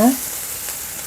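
Sliced garlic and half an onion stir-frying in a hot pan, a steady hissing sizzle after a brief clack at the start, loud and close with no voices.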